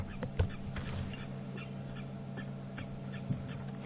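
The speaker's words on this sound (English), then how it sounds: "You can hear some birds' alarm calling" Birds give alarm calls out in the bush at Djuma Game Reserve on an early-morning safari drive. The calls are faint and distant, with short scattered calls over a low steady engine hum.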